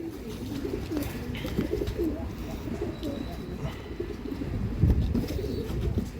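Pigeons coo in soft, low, repeated murmurs inside a busy loft with steady background rustle and a few faint chirps, no clear talking.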